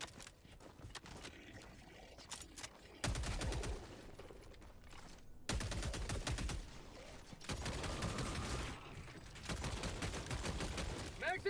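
Rapid automatic fire from the Tenderizer rifle set to its faster fire rate in Helldivers 2, with bursts of gunfire, brief pauses and overlapping game noise.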